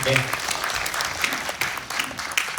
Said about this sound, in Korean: 박수 한번 보내주시죠, 여러분